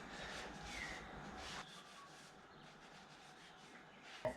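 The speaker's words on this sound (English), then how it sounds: "Wipe the whole lot off." A rag soaked in wax and grease remover is wiped over stripped vehicle axle parts, giving faint close rubbing strokes in a few quick passes, with no talk.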